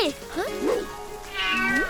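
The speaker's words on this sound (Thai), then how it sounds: "ทำแบบนี้ได้ไง เจ้าแมวนิสัยไม่ดี" A cat in an animated Thai history series gives several close, clear meows, a mix of short rising cries and longer drawn-out wails, with voices present alongside.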